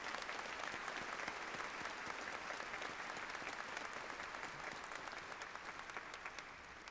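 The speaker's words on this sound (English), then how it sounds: "Please join me in applauding our dedicated faculty and research personnel." Sustained applause from a large graduation audience honoring university faculty and research staff, a dense, even clatter of many hands filling the hall for the whole stretch, fading slightly toward the end.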